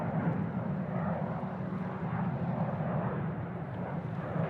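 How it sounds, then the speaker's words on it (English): A Qantas Boeing 737 takes off from runway 16 right at Sydney Airport, its engines a broad, steady roar heard from a distance, with no voices over it. "Qantas 737 departing 16 right."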